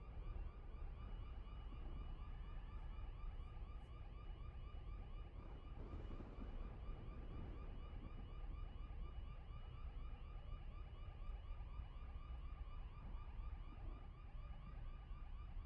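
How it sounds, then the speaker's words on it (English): A video game car alarm blares steadily and continuously, its repeating electronic tones cycling on and on at constant loudness over a background rumble. "Sounds like a car alarm going off."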